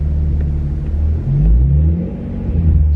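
A manual project car's engine rumbles and revs up briefly as the clutch is let out, then sags and dies in a stall, heard close and loud from inside the car.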